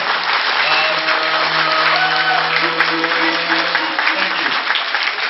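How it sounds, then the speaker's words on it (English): Steady, dense applause from an audience standing for the 2011 speakers and sponsors, a continuous wash of many hands clapping with a low hum running underneath. "please stand and give them a round of applause"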